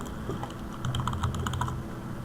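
Quick bursts of close keystrokes on a computer keyboard as a name is typed in, light rapid clicking over a faint steady hum.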